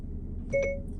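A Mercedes E-Class W212 running Apple CarPlay on NTG 5.0 plays its Siri activation beep, a short, clean two-tone electronic chime heard once over a quiet car-cabin hum.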